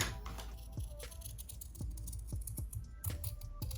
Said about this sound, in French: Alors je vais découper sur les bords les ailes.